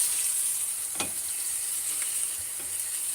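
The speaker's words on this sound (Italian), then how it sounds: "Adesso stanno nella casseruola, tegan, come lo volete chiamare voi, e li faremo friggere per bene." Pieces of meat for a Southern Italian Sunday ragù fry in a saucepan, giving a steady close sizzle with a few louder spits and pops. No one speaks.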